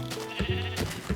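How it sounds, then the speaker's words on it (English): Sheep bleating in Minecraft Infdev, a few short nasal bleats in quick succession, fairly close and moderately loud, with no talking over them. "if these sheep keep pushing me in random directions, probably not"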